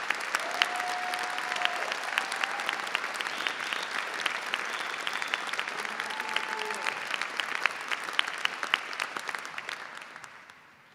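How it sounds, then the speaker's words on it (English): A large crowd at a Birmingham City University graduation claps steadily in sustained applause, dense and even, slowly fading out toward the end. "Please join me in giving them a warm round of applause."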